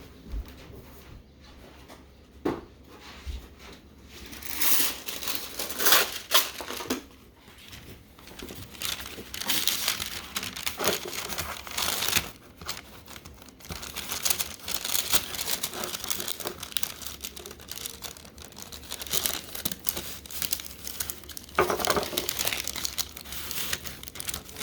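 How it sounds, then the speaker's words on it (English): Close, soft crinkling and crackling of material being handled during sculpting, irregular bursts of rustle over about twenty-five seconds with no voices. "Now I have crinkle sounds."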